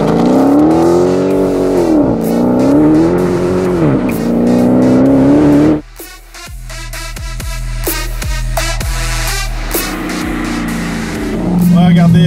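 The V8 engine of a Dodge Challenger SRT Hellcat Redeye revs hard, its pitch rising and falling in long surges, then cuts to a series of sharp throttle blips with rumbling idle between.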